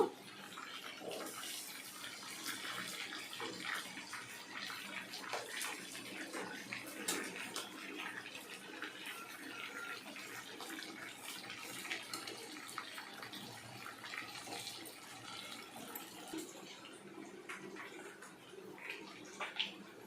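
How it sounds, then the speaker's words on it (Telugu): Chicken pakoda pieces frying in hot oil, a steady dense sizzle and crackle with scattered sharp pops running throughout at moderate level, no talking. "చికెన్ పకోడా ఫ్రై చేస్తున్నానండి."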